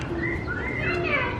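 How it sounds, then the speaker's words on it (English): Birds, including toucans, call inside an aviary at a nature sanctuary: several short rising and falling whistled calls overlap close by against a busy background. "Look at all the pretty birds."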